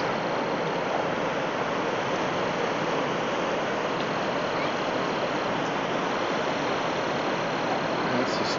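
Water rushes over a spillway on the Ohio River, a steady broadband roar heard from a distance, constant and unbroken throughout.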